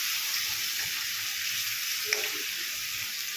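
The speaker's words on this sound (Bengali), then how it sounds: "এটা একটু ভাজা ভাজা হবে, পেঁয়াজটা একটু গোল্ডেন কালার হয়ে আসবে।" Chopped onion, garlic and ginger fry in oil in a pan, giving a steady, close hiss of sizzling with a few faint stirring clicks and no talk.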